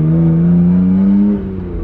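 A Nissan Skyline GT-R engine with an HKS Racing Suction intake drones loud and close, pitch rising slightly as it revs with an intake whoosh, then drops off near the end.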